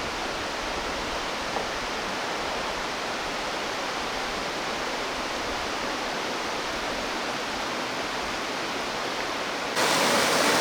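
A shallow river flows through Kong Lor cave in Laos during the dry season. Steady, dense rushing water fills the whole stretch with no pauses, and no voices are heard over it.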